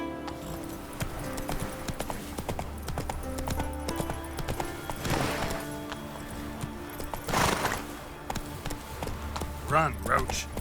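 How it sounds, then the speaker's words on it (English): Rhythmic clip-clop of Roach the horse's hooves galloping in The Witcher 3 video game, with snorts and a whinny, and a voice speaking over the hoofbeats. "Run, Roach."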